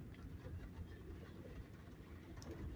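A CSX freight train of empty tank cars rolls past a rail yard in Greenwood, South Carolina, giving a continuous low rumble with faint wheel clatter, moderately distant and steady throughout.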